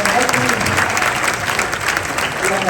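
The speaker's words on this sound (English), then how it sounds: "Give our panelists a big round of applause" A crowd at a Tiger Bay gathering claps loudly for the panelists, a dense, steady burst of applause filling the whole stretch with no one talking over it.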